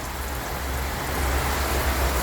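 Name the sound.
rain falling in Cape Town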